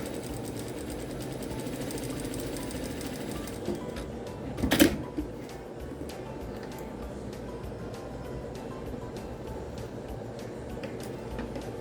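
A sewing machine stitching patchwork fabric for a 3D block, a soft rapid mechanical whirr with light ticking, fairly quiet and close, briefly interrupted by a short louder burst of handling noise near the middle.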